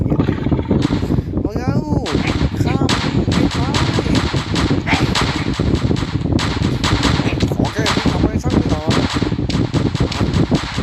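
Dense bursts of gunfire from a video game run through the whole stretch, with machine-gun rattles and heavy artillery-like booms, loud and continuous, while a voice talks over the shooting.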